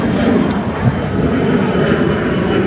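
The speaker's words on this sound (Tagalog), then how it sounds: "May dumadaan na aeroplano." Loud, steady low roar of an airplane passing overhead, filling the whole short stretch without breaks or speech.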